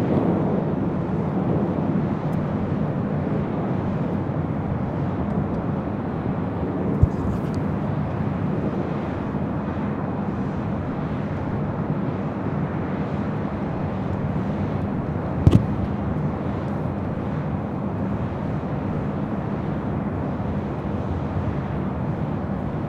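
An EVA Air Boeing 777-300ER arriving at LAX from Taipei makes a broad, steady jet roar that holds at an even level throughout, heard from a distance with a couple of brief sharp clicks.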